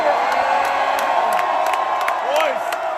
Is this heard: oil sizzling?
no